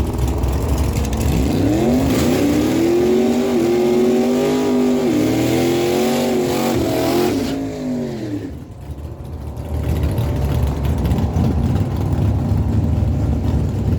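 A 1992 Ford F-150 and a 1996 Dodge Ram 1500 drag race at Miramichi Dragway, engines roaring loudly with rising revs and gear shifts, fading briefly before another engine surges up again.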